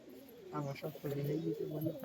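Pigeons coo softly at close range, a couple of low rolling calls in quick succession, fairly faint and alone.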